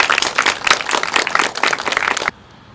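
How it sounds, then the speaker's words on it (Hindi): An indoor audience at a spiritual session in Ahmedabad claps loudly and steadily in dense applause that cuts off abruptly near the end, leaving near silence. "सबको हम जोरदार तालियां बजाएंगे"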